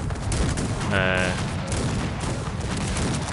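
Cannon fire from the strategy video game Cossacks 3 sounds as a dense barrage of booms and crackling shots layered over continuous battle noise, with voices talking underneath.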